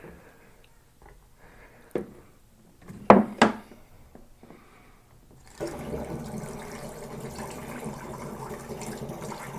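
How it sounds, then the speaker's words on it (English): Water pours steadily into a jug while mead is being made. Faint clicks and knocks and the sound of a cap coming off come first, then a continuous close splashing fill runs for several seconds. "add in the rest of our water."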